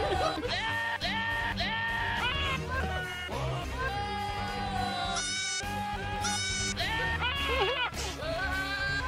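Goats scream loudly, one strained wavering bleat after another, forming a steady, dense run of high cries that carry on without a break from start to finish.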